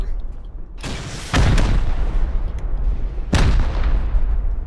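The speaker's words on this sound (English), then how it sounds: "HV rocket, by the way." HV rockets explode in the video game Rust, landing as two heavy booming blasts a couple of seconds apart, loud and close, with rumbling noise trailing between them.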